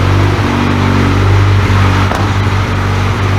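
The turbocharged AWD Honda Civic EM2 with a Quaife sequential gearbox in first gear gives off a loud, steady, close-up engine drone, holding a rough low rev with little change throughout.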